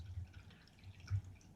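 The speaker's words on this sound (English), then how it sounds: "So what I'm going to do is fill it with tap water" Tap water trickles into the tank of an ultrasonic cleaner, a faint, uneven dribble with soft splashy bursts and low plops, quiet and close.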